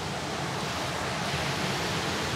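Waterfall at a family-friendly swimming spot near Clark in the Philippines gives a steady, dense rushing hiss, constant and fairly close, with no voices.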